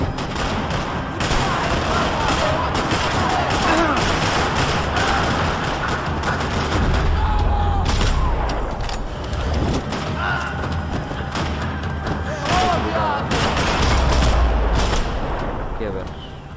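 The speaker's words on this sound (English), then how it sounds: "Another parking lot rattling with gunfire." Gunfire rattles through a parking lot in the Max Payne 3 video game, with repeated shots and heavy low booms continuing throughout amid loud, busy action noise and a voice speaking over it.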